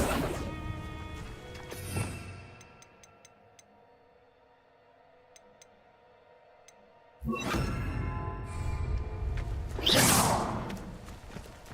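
A summoning spell, Accio, cast in the Hogwarts Legacy video game: a soft whoosh, then a quiet stretch of faint ticks and chimes, then a swelling rush and a sharp, bright crash near the end.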